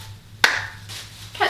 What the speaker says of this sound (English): I'm going to try switching hands and clapping once in the middle.